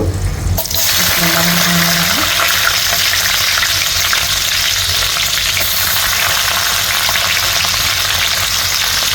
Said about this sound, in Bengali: তেলটা গরম হলে এখানে আমি পেঁয়াজ কুচি অ্যাড করে দিব।